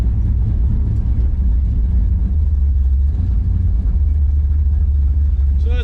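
A Plymouth Belvedere, freshly started after sitting for nearly a year, idles with a steady low engine rumble that stays loud and continuous throughout.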